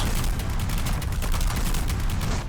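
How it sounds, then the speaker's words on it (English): A rapid barrage attack in the video game Jujutsu Shenanigans, heard as a dense, continuous stream of punchy impacts that stays steady and loud throughout, with no voices. "first move in Awakening, we have Lucky Volley, which is a barrage"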